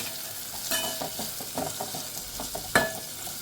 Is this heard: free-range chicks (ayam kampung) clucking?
no